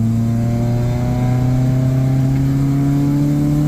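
A Toyota Soluna fitted with an Ultimate tuning box accelerates through first gear, its engine note rising steadily and loudly in pitch as it pulls, with no voices.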